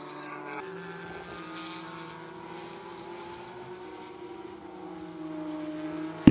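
Race cars in a Porsche club race at Watkins Glen cross the start-finish line, heard as a faint, distant engine drone that swells and fades with a rising whine near the end, no talk.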